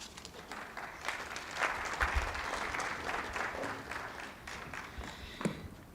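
An audience claps at a diplomacy conference, a steady, fairly quiet wash of applause from a crowd that holds for several seconds, with no talking over it.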